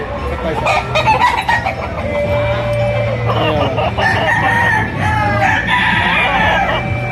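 Roosters and stags at a poultry market in Lipa, Batangas crow loudly and overlap one another close by, while hens cluck underneath and faint voices mix in the background.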